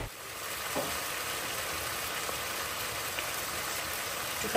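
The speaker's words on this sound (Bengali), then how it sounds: "মাংসটা একটু আগে ভাজা ভাজা করে" Beef sizzling in a pan while being browned for Burmese beef noodles, a steady broadband crackle that runs continuously at moderate level with a few faint stirring knocks and no talk.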